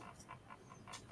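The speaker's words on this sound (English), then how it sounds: "My dogs are running around very loudly." Several dogs pant rapidly in short rhythmic bursts close by, with faint scrabbling movement underneath as they run around a room.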